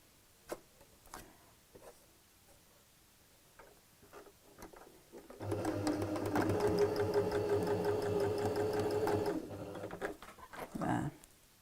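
A sewing machine stitches a tote bag with pockets, running steadily for about four seconds after some light handling clicks and fabric rustles, then stopping; it is close and clear.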